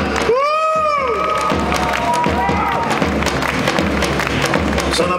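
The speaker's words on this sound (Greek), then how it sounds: "ένα χειροκρότημα για εσάς" An audience at a Pontic Greek association dance event in Waiblingen applauds and cheers loudly, with a crowd shouting over continuous clapping and voices mixed in.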